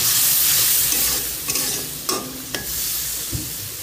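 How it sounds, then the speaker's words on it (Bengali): Sliced onion and green chili frying in hot oil, a bright continuous sizzle that eases off slightly, punctuated by a few clacks of a stirring utensil against the pan, close up with no voices. "এখন তেলে দিব পেঁয়াজ আর মরিচ দিয়ে"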